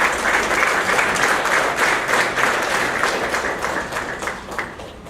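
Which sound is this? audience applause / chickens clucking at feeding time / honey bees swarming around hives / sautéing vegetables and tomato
audience applause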